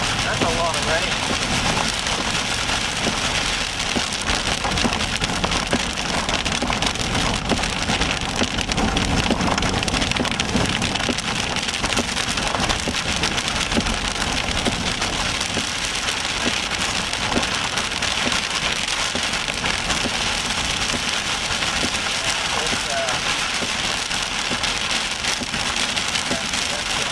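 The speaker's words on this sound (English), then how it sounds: "That's a lot of rain." Heavy rain pours down steadily during a severe storm in northern Oklahoma, a dense constant hiss of drops on surfaces lasting throughout, with a voice talking over it.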